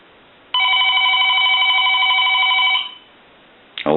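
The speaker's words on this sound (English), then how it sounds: "So we want to go ahead and ring the unit. I'm going to let that go a few times." A single ring from a Radio Shack Ruby telephone, an electronic bell tone lasting a couple of seconds, then quiet before a second ring begins.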